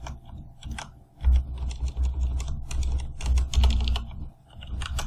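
Console commands typed for a Borderlands 2 game on a computer keyboard: quick, irregular bursts of close key clicks and clacks with brief pauses, heard alone with no talk.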